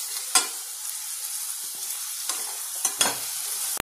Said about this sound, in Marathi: ब्राऊन करून घेते मी कांदा